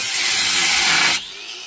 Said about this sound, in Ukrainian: Це ж невелика болгарка.